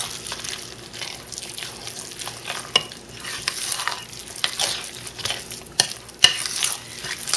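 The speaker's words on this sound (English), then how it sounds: "You can see the zucchini just mixes right in" Zucchini being stirred into a thick cake batter, a steady wet squelching and scraping of a spoon through the mix, with irregular clicks of the utensil against the bowl, close and alone.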